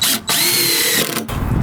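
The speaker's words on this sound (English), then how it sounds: "And drill it back down." A power drill whines sharply as it drives a screw into deck wood, with two quick bursts separated by a brief pause, close and loud.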